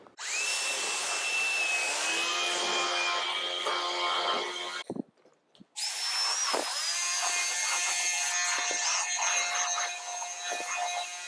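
A vacuum cleaner's steady high motor whine fills the space close by as it works around tight corners under a table. It cuts out briefly, then restarts with faint bumps and knocks.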